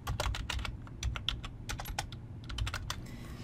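Quick bursts of typing on a computer keyboard, a close, fairly soft patter of irregular key clicks with brief pauses, heard alone without talk.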